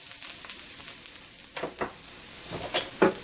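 Ginger and garlic sizzle in hot sesame oil for an Indo-Chinese baby corn Manchurian, a steady close frying hiss with a few louder crackling bursts toward the end.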